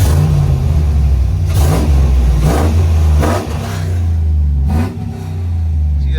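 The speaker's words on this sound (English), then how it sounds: "Give you guys a couple revs with it again." An E85-tuned Chevrolet Tahoe with a newly fitted cold air intake revs repeatedly from idle, with several sharp throttle blips rising and falling over a steady, loud, close engine rumble.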